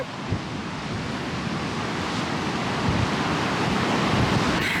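Atlantic Ocean surf on the Delaware coast after a hurricane, a steady broadband roar of breaking waves with wind buffeting the microphone, loud and continuous with no voices.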